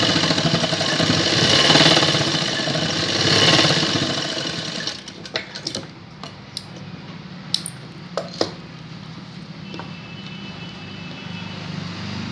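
A sewing machine stitches elastic onto the edge of baby pants, running loud and steady for about five seconds, then stops and gives way to scattered clicks and small handling knocks.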